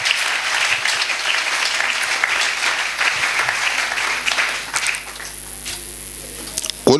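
A church congregation applauding: sustained, dense clapping from many hands filling the room, loud and steady throughout before thinning slightly toward the end.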